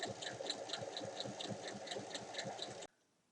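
Sewing machine topstitching the seams of a fabric bag 1 mm from each side of the seam, a steady rapid mechanical stitching hum with a regular clatter, close and continuous, stopping abruptly near the end.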